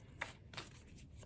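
Tarot cards being shuffled by hand, with two or three soft, brief riffling bursts spread across a quiet moment and no talk.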